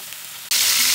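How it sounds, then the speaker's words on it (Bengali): Pieces of coral fish hit hot oil in a pan with a sudden burst of loud, bright sizzling, which starts halfway through after a quiet moment and holds steady. "এই কারণেই হালকা করে মাছটা ভেজে নেব।"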